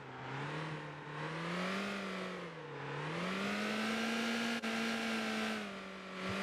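A truck engine in the MotorTown driving game pulls away, its steady, close drone rising and falling in pitch through the gears, with a brief click midway and no talking.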